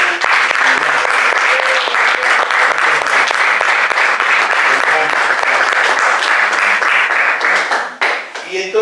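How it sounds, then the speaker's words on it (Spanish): A church congregation at a Sunday service bursts into loud, sustained applause, thick and even throughout before tapering briefly near the end, with voices mingled in the crowd. "Dale ese aplauso."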